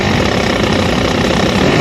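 A 1,000-plus horsepower drag race car engine, loud and close, a dense continuous roar with rough low rumble that stays steady throughout.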